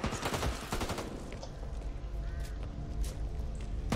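Rapid gunfire in the zombie shooter game Back 4 Blood, a dense burst of repeated shots at the start followed by scattered sporadic cracks over continuous game noise.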